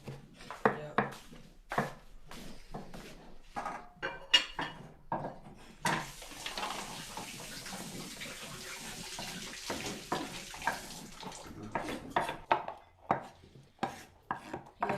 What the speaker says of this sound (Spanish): Ponte a lavar los platos que están en el caño.